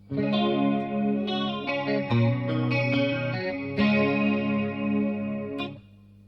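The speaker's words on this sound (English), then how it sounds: "it's a chorus sound" An electric guitar, a Les Paul through a Strymon Mobius pedal, plays chords and sustained notes with a shimmering chorus effect, rich and wavering, with no voices.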